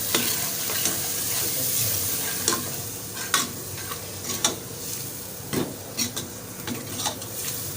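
Browned onions with kasuri methi are stirred in a pot while frying for a beef curry, a constant sizzle broken by repeated spoon scrapes and knocks against the metal that grow more frequent toward the end.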